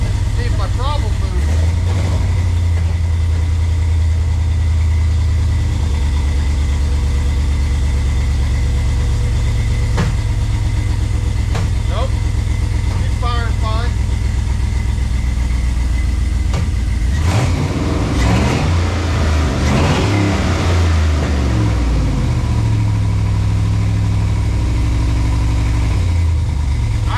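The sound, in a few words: Jeep TJ engine started and running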